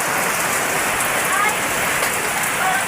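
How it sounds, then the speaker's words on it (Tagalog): Heavy rain pours down steadily, a dense continuous hiss of drops drumming on surfaces throughout. "Malakas ang ulan."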